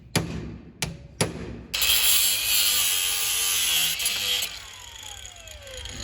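An angle grinder cuts off rusted bolts on an old rail speeder, opening with three sharp metallic knocks before a loud, steady high-pitched grinding screech runs continuously, easing off toward the end.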